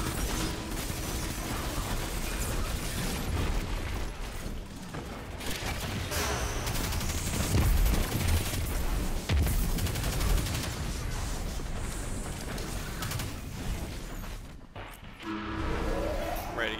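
Gunfire and explosions in a Destiny 2 raid form a dense, constant barrage with a few heavier booms mixed in, while players talk over the noise.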